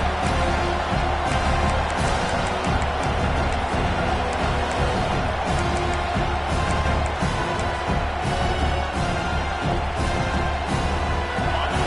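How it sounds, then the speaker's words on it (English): A dense, continuous roar of a large college football stadium crowd cheering, steady and loud throughout with no pauses. "wow, listen to this crowd noise"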